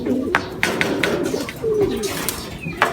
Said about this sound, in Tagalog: Yun, naunahan niya si White Flight mga kalapatids